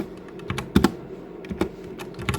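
Fingers typing on a computer keyboard, a quick irregular run of close, crisp key clicks with small bursts and brief pauses, no voices.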